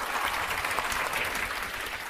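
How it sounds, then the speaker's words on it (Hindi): A room full of people applauds loudly for a student's success, a dense, steady wash of many hands clapping at once, with no voices over it. "एक बार इनकी सफलता के लिए जोर से ताली होना चाहिए"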